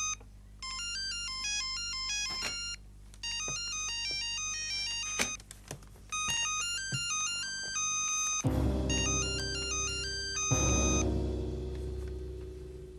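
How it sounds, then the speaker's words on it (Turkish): A mobile phone ringtone plays a bright, repeating electronic melody in a home setting, loud and close, with short pauses between phrases and some clattering noise near the end. "telefonun çalıyor kızım"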